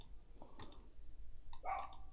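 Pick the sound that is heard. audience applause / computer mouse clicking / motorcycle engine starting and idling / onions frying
computer mouse clicking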